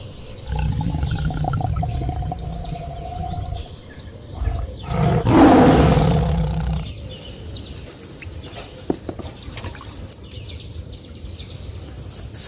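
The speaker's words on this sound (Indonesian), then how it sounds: "Harimau." A tiger gives a loud, close roar lasting a couple of seconds, set among quieter animal and ambient sounds before and after.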